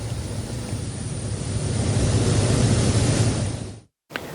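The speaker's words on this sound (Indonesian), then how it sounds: "Satgas Udara juga mengerahkan helikopter untuk pengeboman air atau waterbombing dan patroli udara" A helicopter water-bombing forest and land fires in Indonesia gives a loud, steady broadband roar that swells slightly midway, then cuts off abruptly near the end before briefly returning. No voices.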